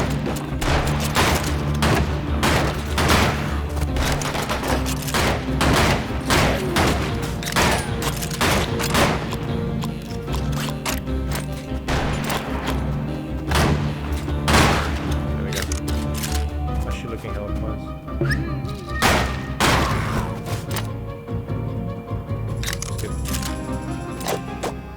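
Rapid gunfire from the western roguelite video game Colt Canyon crackles in quick repeated shots throughout, sharp and close, with someone talking over the game sounds.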